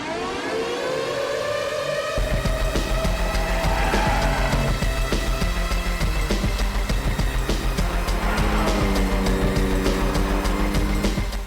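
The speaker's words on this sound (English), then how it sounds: "So Brendan and I have been driving the BMW M4 and the Mercedes-Benz C63 Coupe" A BMW M4 and a Mercedes-AMG C63 coupé on a race track, engines howling loudly as they rise and fall through the gears under hard acceleration, close and continuous with no talking.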